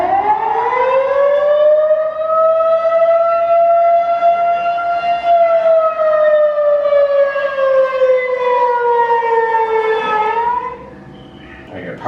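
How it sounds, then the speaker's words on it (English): A loud, steady push-button demonstration weather warning siren in Punxsutawney holds one rising-then-falling tone for about ten seconds before winding down, with nothing else heard. "push the button to find out what weather sirens sound like"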